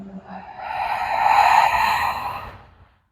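A long exhaled breath during a guided breathing exercise, rising to a steady breathy rush and then fading out, heard alone and close.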